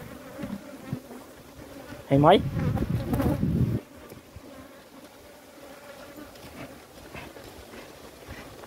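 A dense swarm of Italian honeybees hums steadily in the background on a windy high rocky cliff, with a louder burst of buzzing close by for a second or two, while a voice speaks briefly.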